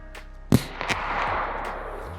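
A single sharp .22LR rifle shot cracks out close by, a brief loud report followed by a short decaying tail and faint background noise.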